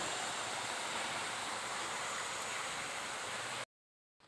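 A forest waterfall pours steadily, a broad hiss of rushing water that stays even and fairly soft before cutting off abruptly near the end.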